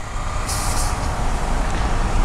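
Heavy road traffic with trucks on a rainy highway between Recife and Caruaru, a steady broadband roar of engines and tires with a brief hiss of an air brake release near the start, continuous and close.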